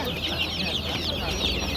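Ducklings at a poultry bazaar: continuous high, overlapping peeping from many birds close by, with a low murmur of market noise underneath.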